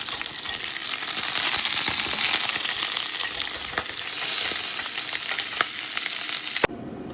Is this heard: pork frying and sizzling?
yes